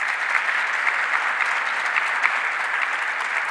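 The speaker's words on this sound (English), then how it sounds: "Let's give him another round of applause." A crowd at a government announcement in Rochester gives sustained, dense applause, an even wash of many hands clapping at steady loudness throughout.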